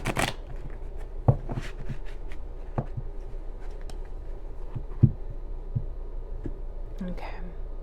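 Tarot archetype cards being shuffled close by in a quiet room, with soft riffles and light taps in an irregular rhythm, and a few faint breaths or murmurs between them.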